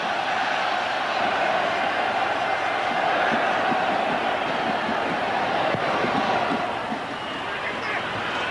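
Stadium crowd at a 1994 World Cup qualifier between Wales and Romania, a dense, continuous roar of massed voices holding steady throughout, distant and enveloping.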